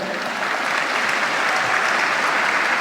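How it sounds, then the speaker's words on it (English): Loud, dense applause from a large audience, steady clapping filling the whole moment without letup. "Let us have a big round of applause for our Palestinian lecturers and friends."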